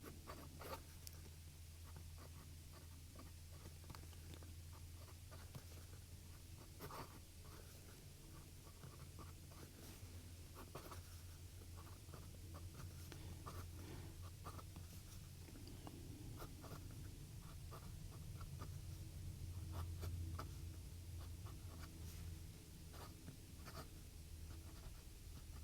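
A BPC Sixth Avenue fountain pen with a 0.8 mm stub nib scratches quietly across paper in a run of short strokes over a faint background hum.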